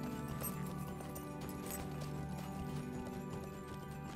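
A horse ridden across terrain in the game LOTRO clip-clops along at a steady, continuous gait, its hooves rhythmic and close under background game music.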